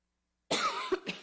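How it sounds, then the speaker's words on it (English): A single raspy cough bursts out close to the microphone at a public meeting, followed by a second shorter hack, with silence before it. "Sorry, guys, I got a cough."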